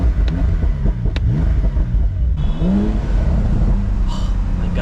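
A Porsche 911 Carrera S (992) engine rumbles and revs up, its pitch climbing and falling with a few popping bursts, loud and close while a person talks over it.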